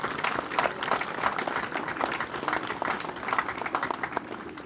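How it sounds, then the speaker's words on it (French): At an inauguration at an outdoor leisure base, a crowd applauds the volunteers warmly, a sustained, moderately loud stretch of many hands clapping with no talking. "je voudrais qu'on les applaudisse chaleureusement"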